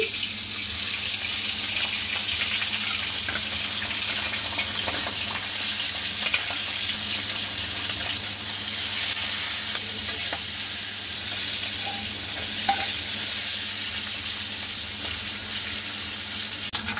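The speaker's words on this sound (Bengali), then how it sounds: "মাছগুলোকে এখন দিয়ে দিচ্ছি।" Tengra fish fry in hot oil in a wok, a loud, steady, dense sizzle with a crackling spatter that holds without a break for the whole stretch, close by and with no voices.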